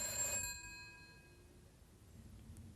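Old-style telephone bell ringing in a short burst at the start, then its metallic ring decaying away into quiet room tone.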